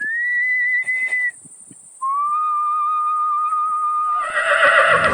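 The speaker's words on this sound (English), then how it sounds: "this is where Gandalf whistles to Shadowfax, his horse there" A long sustained whistle from Gandalf calling his horse Shadowfax in the Lord of the Rings film, two drawn-out tones, followed by a loud shrill neigh from the horse at the end.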